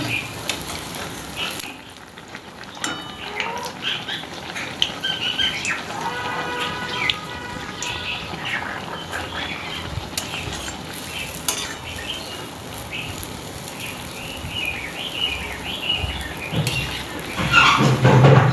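Wheat-flour pakon pitha frying in oil over high heat make a continuous bubbling sizzle with occasional utensil clinks, heard near and steady for a long stretch; faint birdsong sits in the background.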